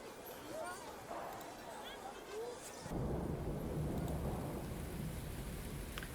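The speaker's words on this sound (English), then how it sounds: "It's raining. It's raining cats and dogs." Heavy downpour at a failed space colony, a steady wash of rain that thickens sharply partway through, with rumbles of thunder and voices talking underneath.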